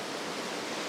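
A Dartmoor stream pours over a small cascade in winter, a continuous dense rush of water, steady and fairly close with no other sounds.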